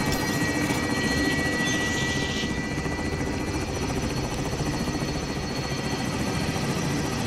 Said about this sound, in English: You landed the helicopter inside of the hangar?